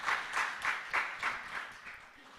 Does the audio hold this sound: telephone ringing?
no